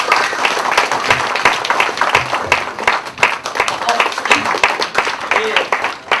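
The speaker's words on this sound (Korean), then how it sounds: "오늘도 힘찬 박수로 시작하겠습니다." Audience applause at the opening of a citizens' school lecture on economic policy, dense sustained clapping filling the hall for several seconds.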